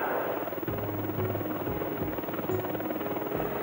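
A helicopter hovers and manoeuvres in the mountains with someone suspended beneath it, its steady rotor thump and turbine whine loud and continuous throughout.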